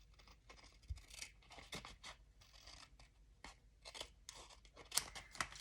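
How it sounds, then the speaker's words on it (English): Card stock being trimmed along its edge with a paper trimmer blade, a series of soft scraping and slicing strokes with small ticks and taps, quiet and close, with no talking. "And then I trim this side"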